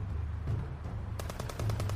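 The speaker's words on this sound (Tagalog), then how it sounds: "Nakarinig ako ng sunod-sunod na putok ng barel." A rapid burst of machine-gun fire crackles in a horror story, a quick run of sharp evenly spaced shots over a low rumbling background, loud and close.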